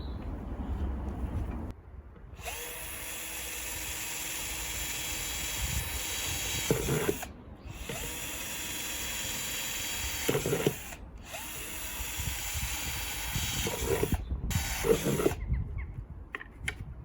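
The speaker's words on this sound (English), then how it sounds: "I'm going to drill some holes in the bottom of that, give it some drainage" A power drill bores drainage holes in the bottom of an old pot, running in four long whining bursts separated by short pauses, loud and close, no talk.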